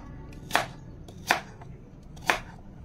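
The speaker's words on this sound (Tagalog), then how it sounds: "Islice po natin na ang maninipis" Three evenly spaced knife strokes slice an apple thinly on a cutting board, each a crisp, close chop with short pauses between, no voices.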